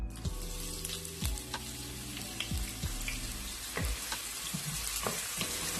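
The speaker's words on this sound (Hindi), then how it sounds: "ऑयल गर्म हो गया है, इसमें एक अनियन डाल ली चॉप" Chopped onion frying in hot oil in a pot, a steady close sizzle with scattered crackles and pops and a few scraping stirs, no talking.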